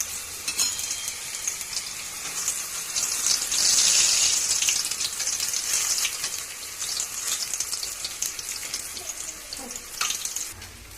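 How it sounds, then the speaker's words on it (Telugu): Appalu frying crispy in hot oil, a loud continuous sizzle and bubbling crackle that swells and eases steadily throughout, with no voice over it. "ఒక సైడ్ కాలగానే ఇంకో సైడ్ తీసి డార్క్ బ్రౌన్ వచ్చే వరకు మనం క్రిస్పీగా దీంట్లో ఫ్రై చేసుకోవాలి"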